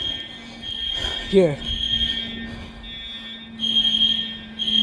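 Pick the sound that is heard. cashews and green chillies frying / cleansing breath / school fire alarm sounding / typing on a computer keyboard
school fire alarm sounding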